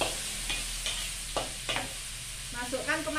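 Smoked fish pieces sizzle steadily as they fry in a pan, with several distinct scrapes of stirring spaced through the sizzle, close and clear, with no talk.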